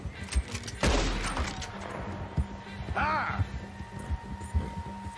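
Gunfire in Red Dead Redemption 2 starts with a loud shot and echoing boom, then single shots keep thudding at a steady pace, with a brief voice partway through.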